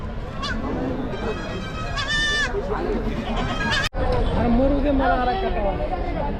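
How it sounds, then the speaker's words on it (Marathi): Sheep and goats bleat repeatedly in a busy livestock market at Chakan, Maharashtra, their calls rising over a constant crowd murmur and nearby chatter. "शेळ्या पाहू शकाल मित्रांनो"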